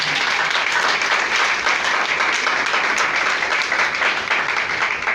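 A church congregation applauding together, a dense, loud, steady wash of clapping that fills the room from start to finish with no talking over it.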